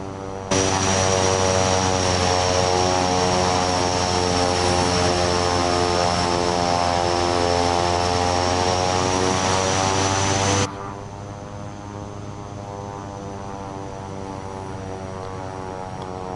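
Propeller airplane taxiing in Microsoft Flight Simulator 2024, a loud steady droning engine with a strong buzzing harmonic whine that suddenly drops to a quieter idle partway through, no talking.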